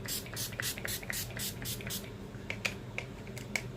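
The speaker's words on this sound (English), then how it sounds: "Then we just do a little spritz with this setting spray." Makeup setting spray misted onto a face in a rapid series of short hissing spritzes, close and fairly quiet, with a few sharper pumps toward the end.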